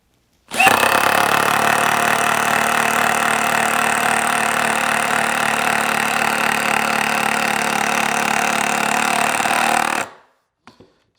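A cordless drill driver sinks a long screw in one steady, loud motor whine with grinding under load, lasting about ten seconds, then cuts off abruptly and leaves a few small clicks afterward.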